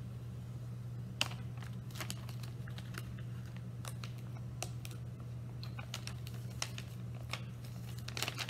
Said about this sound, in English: the black plastic that you're peeling off is just going to go in the garbage.